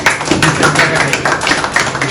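Applause for the treasurer general at a decoration ceremony for council members, brisk close clapping from a crowd, loud and uneven, with a voice heard over it.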